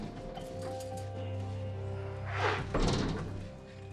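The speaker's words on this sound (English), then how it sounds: "A 25-ton steel door swings shut" A massive 25-ton steel blast door in a Cold War nuclear bunker built deep inside a mountain swings shut, giving deep low rumbling thuds and a heavy clunk near the end over steady mechanical hum.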